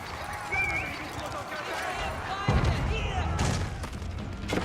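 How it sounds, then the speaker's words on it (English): Horsemen charge in the real-time strategy game Age of Empires 4, with busy clattering hooves and battle noise that grow louder midway, under steady talk. "Horsemen charge way forward."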